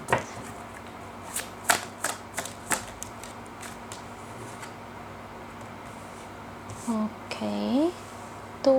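Tarot cards being shuffled in short crisp riffling bursts, several quick flutters close by in the first few seconds, followed by someone speaking.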